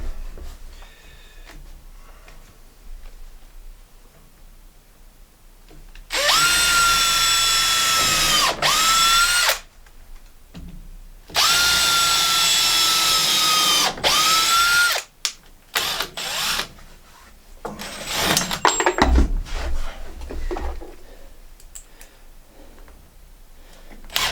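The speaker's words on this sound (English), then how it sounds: "I'm just going to drill 2 holes and then put a couple of screws in" A power drill whirs loudly in two sustained bursts with pitch dips as it bites into wood, followed by shorter trigger pulls and clattering handling noise.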